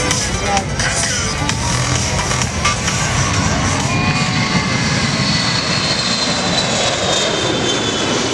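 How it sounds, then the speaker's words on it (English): An E-6 Mercury aircraft takes off at an air show, its engines roaring loud and continuous with a dense, broadband rumble and a faint rising whine. The noise stays powerful and steady throughout. "Take a look as the E6 Mercury takes off."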